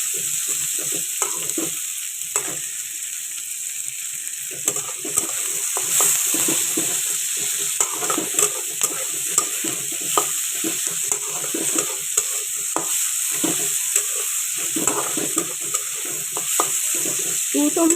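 Onions sizzle and fry steadily in a pan with salt added, while a utensil stirs and scrapes in frequent irregular strokes, close and fairly loud throughout.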